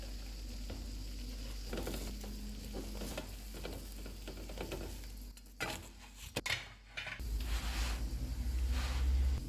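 An egg paratha fries on a hot pan after being flipped, giving a steady close sizzle with scraping and clinking of a utensil against the pan partway through, and no voices.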